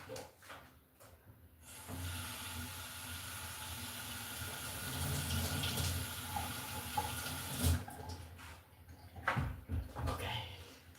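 Water running from a tap, a steady faint hiss of flowing water lasting several seconds before stopping, with soft handling clatter around it.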